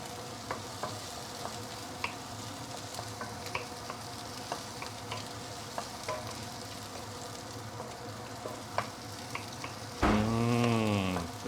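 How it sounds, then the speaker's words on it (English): Shell-on prawns sauté in a pan, a low, steady sizzle with scattered light clicks and taps of stirring, and a brief squeaky sweep near the end. "I left the prawn shell on because I want to get some prawn oil from this sautéing process."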